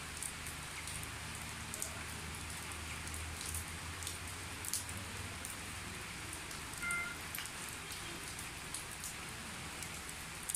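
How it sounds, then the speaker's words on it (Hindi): Early-morning rain in the hills around Abbottabad patters down as a constant, gentle wash of drops on nearby surfaces. It stays soft and even throughout, and no one speaks. "बारिश का सिलसिला शुरू होया है"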